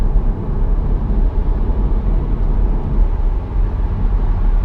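An Audi S4 Avant cruises on the road at about 60 mph, giving a steady low engine drone with road and tire rumble that stays even and loud throughout, with no voices.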